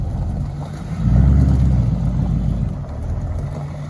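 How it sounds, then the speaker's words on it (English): A barn-find 426 Hemi Challenger engine rumbles low and loud, swelling as the car pulls away and then settling into a steady drone, with no talk. "The mighty Hemi Challenger makes its exit off to Northern California"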